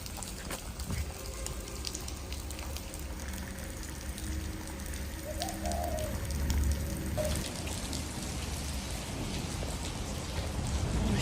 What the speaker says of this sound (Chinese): 主要这么大的雨也没法走，要不然全部淋湿了